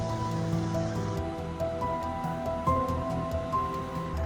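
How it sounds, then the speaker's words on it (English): Steady patter of heavy rain falling on a muddy dirt road, a constant hiss with faint tonal hum in the background; no voices. "The rain was pouring heavily"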